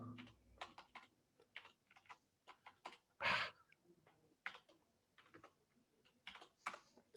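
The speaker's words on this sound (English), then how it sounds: "I'm having a hard time typing today" Computer keyboard typing in bursts of separate keystrokes with brief pauses, plus one louder, longer clack partway through, close and fairly quiet with no talking.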